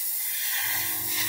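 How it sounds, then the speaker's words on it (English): Spray paint hisses onto a 1/32 scale Fokker E.IV model over masking tape, one continuous close airy hiss that holds steady for its whole length. "I'm just going to lightly spray this over the tape."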